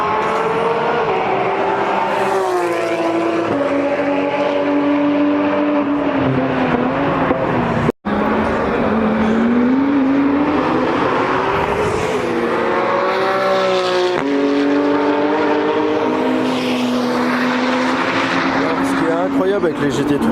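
Porsche GT3 cars sweep past one after another, their high-revving engines rising and falling in pitch as each goes by, loud and close, with a brief sharp knock partway through.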